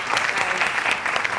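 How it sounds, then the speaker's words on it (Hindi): A studio audience at a late-night TV talk show claps in a dense, sustained burst of applause, loud and close, with no clear talk over it. "बहुत सारी तालियां"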